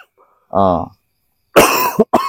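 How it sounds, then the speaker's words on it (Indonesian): A short grunt is followed by a harsh, close cough in a couple of quick bursts. "Batuk ya Mas"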